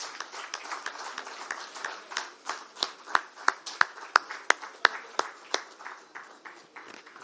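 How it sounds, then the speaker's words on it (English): An audience at a Bengaluru IT and industries association conclave claps in rhythmic unison, individual sharp claps rising to a peak and then thinning out, fairly distant and moderately quiet. "Can we have some clapping for our CM, please?"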